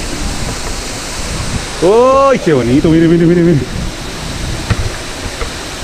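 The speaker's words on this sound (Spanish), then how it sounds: "Cascada Las Buitreras." Steady rushing roar of the Las Buitreras waterfall in Maule, Chile, fills the background while a person exclaims loudly over it.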